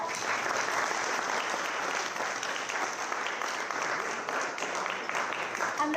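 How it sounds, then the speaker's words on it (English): A full house applauds steadily at an International Ahimsa Foundation anniversary gathering, an even wash of clapping from a large audience heard at a moderate distance without pause. "so let's give it a round of applause."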